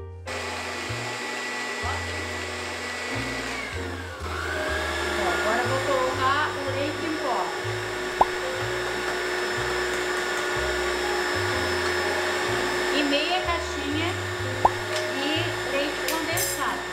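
An electric mixer whips chilled cream for chantilly, a steady high whirring drone whose pitch shifts as the beaters change speed, with occasional clicks and a voice speaking faintly underneath.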